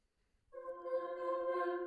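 Sampled choir from the Novella Origin library enters after a short silence, holding a sustained, harmonically rich vocal chord that stays fairly steady and moderately loud to the end, with no talking.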